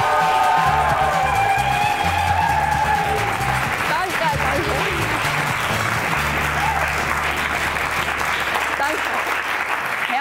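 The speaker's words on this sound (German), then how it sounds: "Begrüßen mit einem tobenden Applaus die Moderatorin vom heutigen Abend" Loud, sustained theatre audience applause during a live stage show, a dense continuous roar of many clapping hands with some cheering mixed in and an underlying low musical hum, holding steady throughout.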